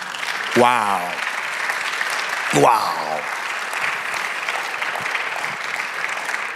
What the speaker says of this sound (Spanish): Denle aplauso al Señor.